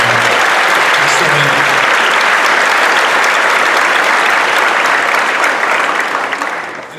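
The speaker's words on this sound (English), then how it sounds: "let's give a round of applause to Mr. McCarlin and Jazz Band for the music." Loud, sustained applause from a crowd at a school Grade 8 recognition ceremony, many hands clapping steadily before fading out near the end.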